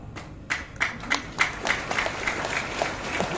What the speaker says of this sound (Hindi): बहुत ताली बजाने की आवश्यकता नहीं है